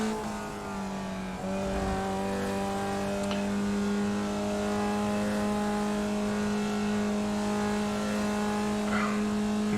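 A Formula Vee race car engine in the iRacing simulator at Laguna Seca, holding a steady strained drone as it climbs a hill, with a brief shift blip early on, then a sustained even tone at moderate level.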